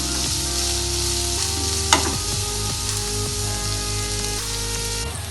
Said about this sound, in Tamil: இதை நல்லா வதக்கிக்குவோம்.